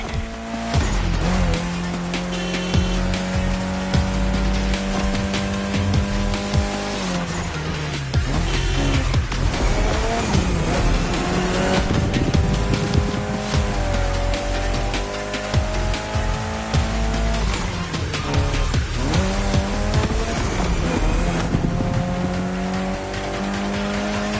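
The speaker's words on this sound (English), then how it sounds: "especially your new ride, Toji's Mitsubishi Lancer Evo X" Mitsubishi Lancer Evo X racing in The Crew Motorfest video game, its engine revving hard and loud, with repeated tire squeals and music playing throughout.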